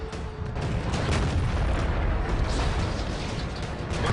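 Tank cannon fire and explosions from a tanks video game match in an Asia Masters esports tournament: dense, continuous loud booming and rumbling blasts fill the whole stretch without a break.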